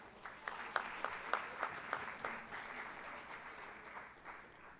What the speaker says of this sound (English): Shall we give her another round of applause?